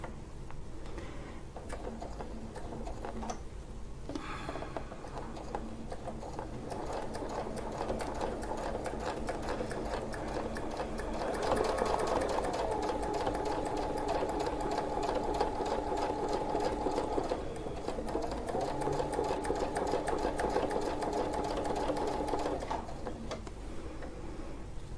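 A sewing machine stitching a quilt wreath section, running in steady bursts of rapid mechanical chatter with a brief pause and restart, close and continuous.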